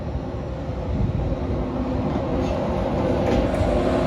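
A Class 91 electric locomotive hauling a train arrives at a mainline station in a retro LNER colour scheme, giving a steady, loud rumble with rail noise that grows slightly louder throughout, with no talk.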